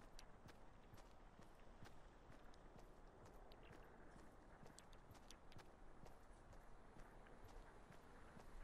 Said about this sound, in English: Keep hearing footsteps, but they're my own.